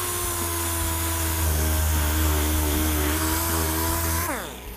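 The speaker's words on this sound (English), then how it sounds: "You're gonna start with 80 grit on a DA or a grinder and just clean up the area" Steady motorized whir of an 80-grit dual-action sander or grinder cleaning up a gouge in a plastic bumper, running continuously and close, then winding down at the end.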